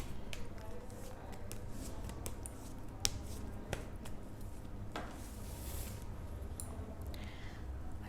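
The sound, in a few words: shuffling tarot cards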